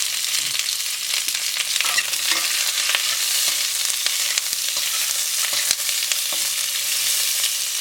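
Separated onion layers frying in oil over a medium flame for bhindi do pyaza, a dense, even sizzle with occasional light stirring clicks, close and steady.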